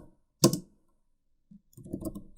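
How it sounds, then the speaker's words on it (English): A short burst of computer keyboard typing, a sharp cluster of clicks, then a brief pause and a second longer run of quick keystrokes, close and clear in a quiet room. "So we're going to type JDBC"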